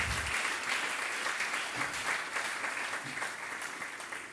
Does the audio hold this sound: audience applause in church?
yes